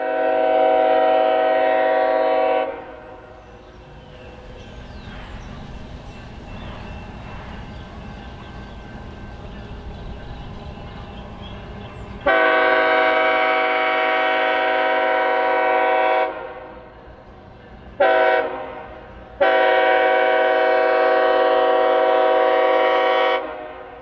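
Loud locomotive horn blasts sound in long and short bursts, separated by the rumbling of helper engines returning light on the rails in a mountain pusher district.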